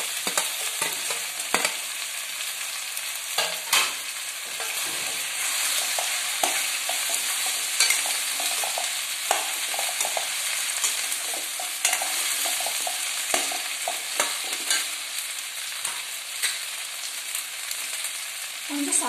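Okra frying with softened tomato in a pan for vendakkai kara kuzhambu, giving a dense, continuous sizzle broken by frequent scraping stirs and light knocks throughout, with no voices.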